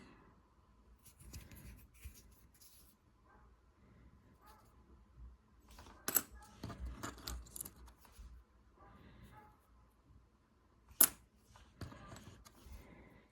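Old tsarist coins handled by hand, with small scattered metallic clinks and rustles at close range. The sounds are sporadic and mostly quiet, with a few sharper clicks.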